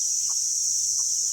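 Desi free-range chickens, a hen and chicks roaming outdoors in morning sun, give two short soft clucks about a second apart, fairly close, over a steady high hiss of insects or background noise, with no talking.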